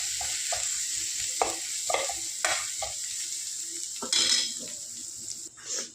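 Spices sizzling and frying in a pan for sambar masala, with repeated stirring scrapes over a steady hiss, close and fairly loud, and a brief burst of running water near the end.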